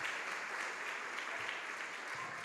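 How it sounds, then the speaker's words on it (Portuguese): Church congregation applauding together, a steady, dense wash of clapping from many hands, moderately loud and even throughout with no talk over it. "Vamos aplaudir o Senhor Jesus por isso."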